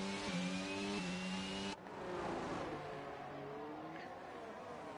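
An Alpine racing car's engine screams at high revs in a racing game at Baku, a steady tonal whine that drops sharply with a gear change and then climbs again, sounding fairly close.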